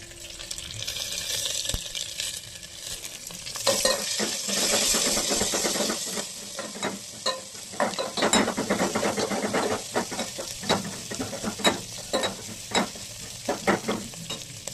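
Tempering sizzles and spits in a hot pan for tomato rasam, with garlic and curry leaves nearby: a steady hiss that swells loudly around four seconds, then crackles and pops in bursts, with stirring scrapes and no voices.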